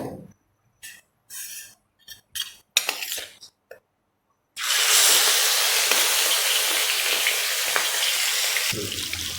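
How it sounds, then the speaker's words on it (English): Prawns hit hot oil in a pan with a sudden loud, steady sizzle that carries on to the end, after a run of short clinks and kitchen handling noises. "Add more oil to it to fry the prawns."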